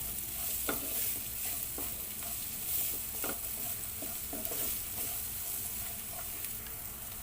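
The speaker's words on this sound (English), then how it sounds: "So after this we can add our carrots. And just saute." Carrots being sautéed in a pan for pancit noodles: a soft, continuous sizzle broken by repeated scraping stirs of a utensil, fairly quiet and close, with no talk.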